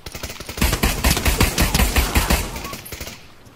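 Pistol gunfire in the Pavlov VR shooter: a loud, close, rapid string of shots, densely packed and continuous for about three seconds before trailing off.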